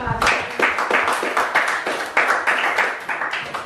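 Classroom of students clapping together in a steady rhythmic pattern, sharp claps in quick regular groups throughout, close and fairly loud.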